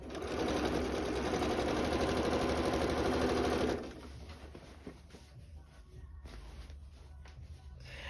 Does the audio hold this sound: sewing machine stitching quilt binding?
yes